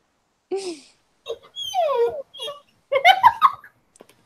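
A dog whines and whimpers in several close, high-pitched bursts separated by short silences, the cries rising and wavering like a moan.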